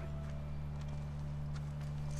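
Hooves of a horse clip-clop at a walk in The Last of Us, a steady sequence of soft hoof strikes over a loud, continuous low game hum.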